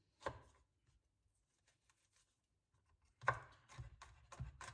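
A knife chops garlic finely on a cutting board: a single sharp chop, a pause with faint light taps, then a quick cluster of several close knocks.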